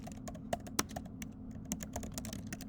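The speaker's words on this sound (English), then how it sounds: "I'm going to go ahead and just type this out for us just to save us some time." Computer keyboard being typed on in a steady run of light, irregular key clicks with a few louder strikes, close by over a low background hum.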